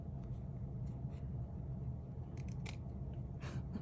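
Scissors cut through a paper craft tag in short snips, crisp clicks over a steady low rumble of background hum, close and fairly quiet.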